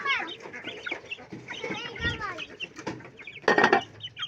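Chickens clucking on a small farm where ducks are also kept, a busy run of close clucks and squawks with a louder flurry near the end, while people talk in the background.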